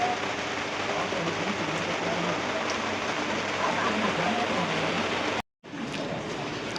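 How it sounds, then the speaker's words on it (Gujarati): Steady heavy rain hisses continuously in Surat city, close and dense, with a brief cutout near the end before the downpour resumes. "આજે તો વરસાદ થઈ રહ્યો છે ખૂબ, જોઈ શકો છો તમે"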